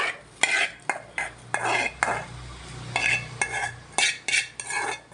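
Tomatoes going into a pan for peanut chutney and being stirred, a spoon scraping and clattering against the metal in quick repeated strokes, with a faint sizzle running underneath.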